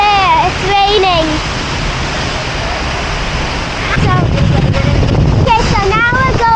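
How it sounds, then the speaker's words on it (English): A roaring rush of falling water from behind Seljalandsfoss waterfall in Iceland, misty and spraying, loud and continuous, with voices speaking over it in short bursts. "Now we're behind the waterfall and it's super misty."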